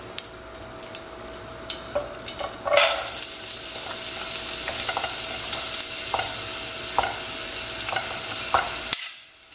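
Onion and garlic frying in heated lard for a grandmother's empadão filling, a steady close sizzle with intermittent stirring scrapes and utensil taps, then falling silent at the end.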